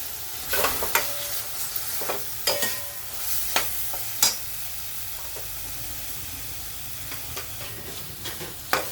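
Tomatoes sautéing in hot oil for mixed dal, a steady close sizzle broken by scraping stirs of a spoon against the pan at irregular intervals.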